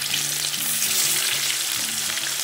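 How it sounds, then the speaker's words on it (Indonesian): Tempe sizzles steadily in hot frying oil, a dense bright crackle that stays loud and close for the whole stretch with no talking over it. "Sekarang kita goreng tempe yang ini guys"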